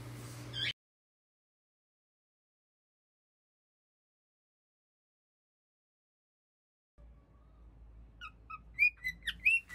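Faint, high chirps and tweets from pet birds rise after a long silence, quick and irregular, growing slightly louder toward the end.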